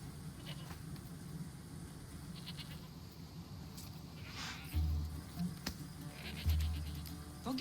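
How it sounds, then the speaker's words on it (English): A goat bleats in a video game, two short bleats in the second half, over a low rumbling ambient background with faint insect-like chirring. "That poor goat."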